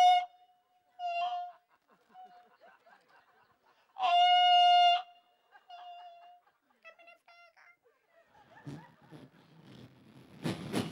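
Someone vocally imitates a freight train with a series of hooting, horn-like tones, one long loud blast in the middle, then rougher chugging, rasping noise building toward the end.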